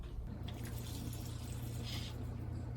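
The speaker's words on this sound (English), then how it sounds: "I always go ahead and try to give the roots some water as it's going down into its cash pot" Water poured into a LECA pot for a semi-hydro houseplant, a soft continuous trickle and splash, quiet and close, with a low hum underneath.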